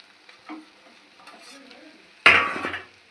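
Cumin powder, turmeric and slit green chillies stir-fried in a pan for a vegetarian sabudana dish, faint low sizzling that bursts into a loud hissing sizzle near the end as the ingredients hit the hot oil.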